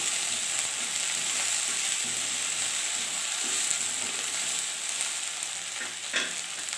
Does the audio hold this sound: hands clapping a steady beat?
no